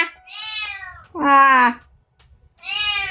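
A person voicing an imitation of a cat, giving three drawn-out meows with pauses between them, the middle one loudest, in a quiet room.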